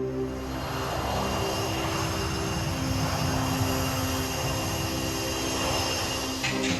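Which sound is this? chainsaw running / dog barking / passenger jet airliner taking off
passenger jet airliner taking off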